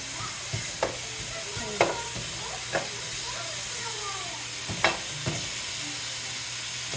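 Tocino, a sweet cured pork that is still slightly frozen, frying in a hot pan for arroz con gandules, giving a steady sizzle with a few sharp scrape-like clicks and faint background voices.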